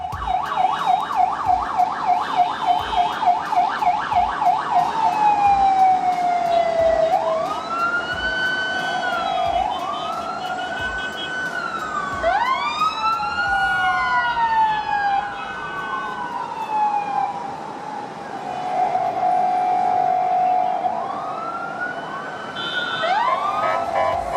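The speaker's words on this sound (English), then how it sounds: "road users not always have the chance to make way for the ambulance" An ambulance siren wails through traffic on narrow city roads, starting with a rapid yelp and shifting to long rising and falling wails, loud and steady over a low road rumble, with no voices.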